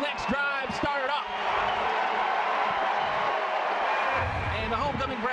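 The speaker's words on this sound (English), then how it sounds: "the homecoming crowd is definitely excited for that one" A homecoming crowd at a UTSA versus UAB college football game roars in a sustained stadium cheer, with whistles and whoops rising through the noise and a commentator's voice heard at the start.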